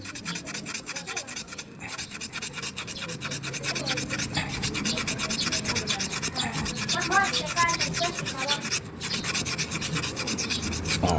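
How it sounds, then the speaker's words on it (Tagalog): Steady rhythmic rasping of fine sandpaper rubbed back and forth on a surface, close and continuous with brief pauses between strokes. "So lilihain lang natin ng hindi magaspang yan. Ayan, meron tayong liha dito na hindi magaspang."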